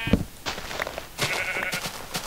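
Sheep bleat in Minecraft, several short separate calls spaced across a couple of seconds, fairly close and clear with no talking.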